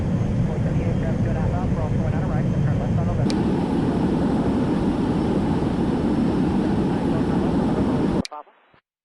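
Airbus A350 engines in a flight simulator game while cruising, a steady loud jet roar with a hum underneath that cuts off abruptly near the end, with spoken announcements over it.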